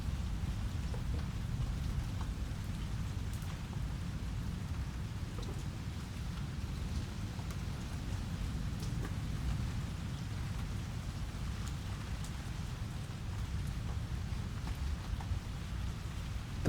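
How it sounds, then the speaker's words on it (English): Raindrops fall on dry desert earth in a steady, continuous patter, soft and even, with a faint low rumble beneath and no voices. "The first drops fall gently, almost unnoticed at first. A soft tapping against the dry earth, light and irregular."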